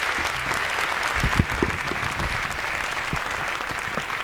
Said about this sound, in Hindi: जोरदार तालियां निर्मल सक्सेना जी,